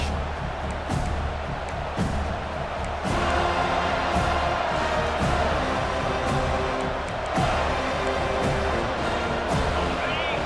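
A college football video game plays a loud, continuous stadium crowd roar with swelling surges. Commentary voices run over it throughout.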